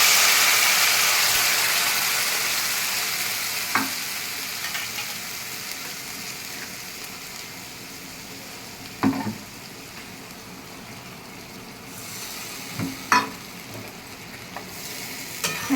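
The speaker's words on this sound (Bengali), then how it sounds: "এই মশলাটা দিয়ে আমি কিছুক্ষণ কষাবো।" Ground spice paste fries in oil with a steady hissing sizzle, broken by a few sharp scraping knocks of stirring at intervals.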